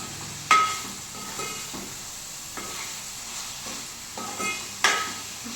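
Tomato pieces fry in oil in a pan for an Andhra-style fish curry, giving a steady soft sizzle broken by several sharp stirring clinks and scrapes against the pan.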